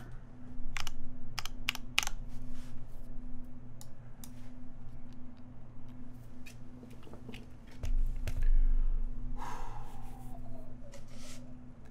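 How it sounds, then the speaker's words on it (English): Rapid typing on a Bauer computer keyboard, crisp clicks in uneven bursts over a steady low hum, with a brief swoosh near the end. "As we hear the first ever typing test"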